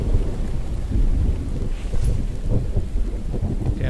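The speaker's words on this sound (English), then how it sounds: "And the rain is freaking ridiculous" Heavy rain pours down with rumbling thunder in the survival video game The Infected, a loud, dense wash of rain with deep low rolls throughout and no talk.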